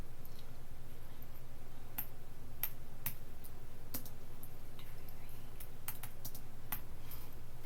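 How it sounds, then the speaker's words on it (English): Someone types a meeting ID on a computer keyboard, producing a steady run of sharp, close clicks and key taps at an irregular pace over a constant low hum. "we're going to type meeting ID, and I will type the meeting ID"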